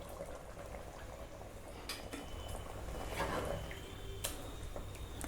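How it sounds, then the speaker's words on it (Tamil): Raw banana curry made with ground coconut paste bubbling in a pot on the stove, a soft steady simmer of popping bubbles with a few faint clinks of utensils. "இப்போ குழம்பு நல்லா கொதி வரட்டும்"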